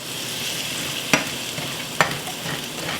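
Brown sugar sauce for a beef and broccoli stir fry cooks in a hot pan with a steady, close sizzle, broken by two sharp spatula scrapes.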